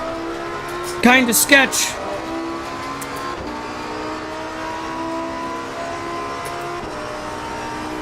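McLaren race car in Assetto Corsa Competizione, its engine droning steadily with a brief sweeping rev surge near the start, while someone talks over it.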